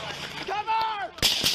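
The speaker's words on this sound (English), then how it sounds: "After that, what appears to be an exchange of gunfire." Gunfire from a police confrontation after a mass shooting, heard as sharp cracks at the end of a brief stretch of shouted voices, close and loud.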